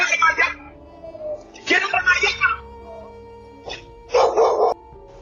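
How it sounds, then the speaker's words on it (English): Dogs bark in short, loud bursts while wandering into a residential driveway outdoors, with several separate barks or yips spread across the moment. "Dogs entered this homeowner's driveway, scaring this person's grandsons."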